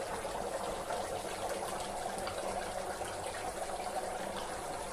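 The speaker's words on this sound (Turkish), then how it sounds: "kuru buz attık. Şu an kaynıyor." Dry ice bubbling and boiling vigorously in water in a kitchen, giving a steady, loud, dense churning gurgle and rush throughout with no pauses.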